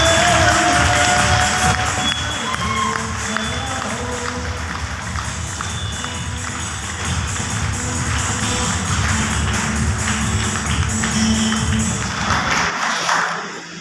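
A large audience claps in sustained applause at a motivational seminar hall, a dense wash of many hands running steadily for over ten seconds before cutting off abruptly at the end.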